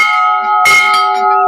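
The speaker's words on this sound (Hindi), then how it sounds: "यहाँ आप देखेंगे आपको घंटा लग रहा है, वो दिखाने की मैं कोशिश कर रहा हूँ" A temple bell at the Haleshwar temple is struck once with a loud metallic clang, and its tones ring and sustain brightly, close and unaccompanied.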